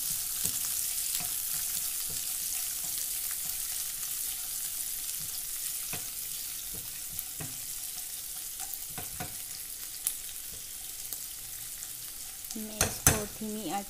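Sliced onions hit hot oil with browned bay leaf for chicken biryani, giving a steady close sizzle with occasional stirring scrapes and a few louder clatters of the utensil near the end.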